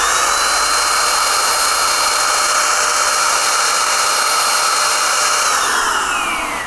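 A cordless paint sprayer runs continuously, spraying paint in a loud, close, steady high-pitched whine and hiss with a slight pitch drop near the end, no talking.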